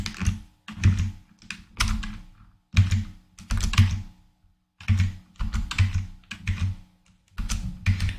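Code being typed on a computer keyboard in bursts of rapid, close key clatter separated by short pauses, with no talking.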